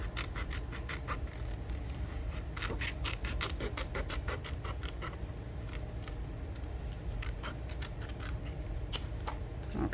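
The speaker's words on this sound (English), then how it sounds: "I am going to cut around this" Scissors snip repeatedly through scrapbook paper while cutting around a leaf and floral design, a close, steady series of crisp cuts coming in quick bursts over a low background hum.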